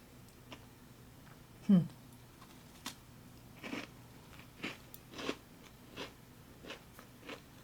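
Chewing and biting into a thick chocolate chip cookie from an MRE ration, with a sharp crunch of the first bite followed by a series of soft, regular chewing crackles, close up, with people talking around it.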